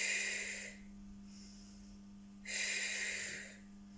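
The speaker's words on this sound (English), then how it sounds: "breathing out, breathing in, breathing out, breathing in" Breathing in and out during a stretching exercise, two long airy breaths separated by a pause, close and soft over a steady low hum, with no talk.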